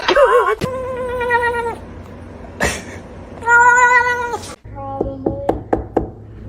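A kitten meows several times up close, with long drawn-out cries and a few short sharp calls, mixed with knocks and thuds nearby and some speech.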